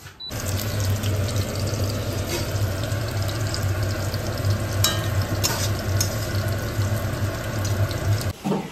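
Fish, including small puti, frying in a wok with a loud, dense, unbroken sizzle close by for the whole stretch, ending abruptly.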